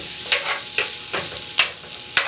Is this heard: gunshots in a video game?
no